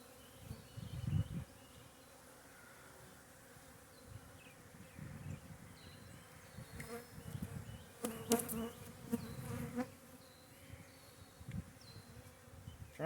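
Honey bees buzz around an open hive during a spring inspection. A soft, steady hum is broken by louder passes as individual bees fly close, and no one speaks.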